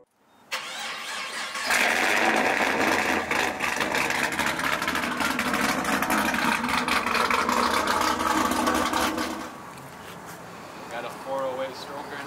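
A Dodge Charger with a stroker engine, stage 3 cam and bolt-on parts cranks and fires up, then holds a loud, rough, sustained roar before easing off near the end, with a voice over it.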